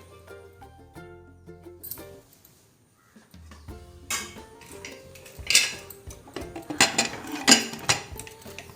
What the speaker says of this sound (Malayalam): അത് നന്നായിട്ടൊന്ന് മിക്സ് ചെയ്തിട്ട് കുക്കർ അടച്ച് വയ്ക്കാം.